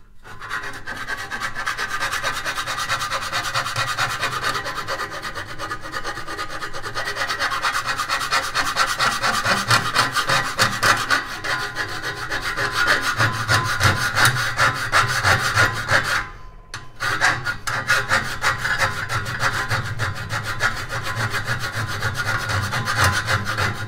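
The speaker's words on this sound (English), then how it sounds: "now I'm just going to file this back edge" A metal file rasps along the cut edge of 50 x 50 steel trunking in quick, repeated strokes, close and steady, with one short pause partway through.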